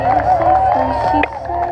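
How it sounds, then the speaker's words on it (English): A crowd at a half marathon finish line cheers and claps steadily as power walkers come across, a continuous wash of voices and applause with talk over the top. "And great cheering, guys and girls."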